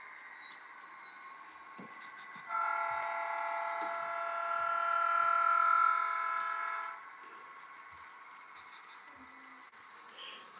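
An HO scale model train runs under DCC control, giving a steady tonal hum that swells for a few seconds and then fades, with faint clicks and scattered small noises around it.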